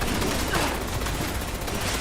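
Dense, continuous gunfire in the video game Fallout 76, a loud unbroken barrage of overlapping shots that lasts the whole short moment, with a voice faintly under it.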